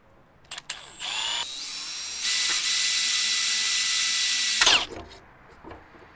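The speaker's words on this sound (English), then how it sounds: "So let's drill them out. Okay, let's start with a little guide hole first." A power drill whirs up, drilling a guide hole during a car stereo install in a 2010 Jeep Wrangler, runs steadily at high speed for a few seconds, then winds down, close and loud with no talking.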